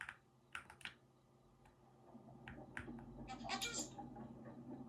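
Cat meowing in the horror video game Scary Shawarma, several short quiet meows scattered over a low background hum, with keyboard typing clicks mixed in.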